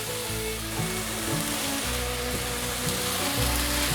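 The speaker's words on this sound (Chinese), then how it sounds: "再快速的翻炒" Carrot, cabbage and baby corn stir-fried in a pan, a dense continuous sizzle with the rhythmic scrape and toss of a spatula throughout, close and fairly loud, no voices.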